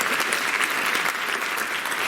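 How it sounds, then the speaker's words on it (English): Audience applause fills a community event, a steady, dense burst of many hands clapping together, lasting a couple of seconds without speech over it. "I'll clap for that."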